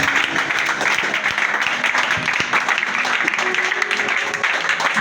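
A congregation at a church service applauding God: sustained, dense clapping from many hands, loud and even throughout, with voices audible in the background.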